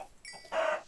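Chicken clucking in the video game Minecraft during a chicken hunt, a short close cluck sounding alone at moderate volume.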